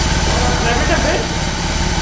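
A BMW R 18 motorcycle's engine runs loud and close in a steady, throbbing drone with a faint lift partway through, while people talk over it.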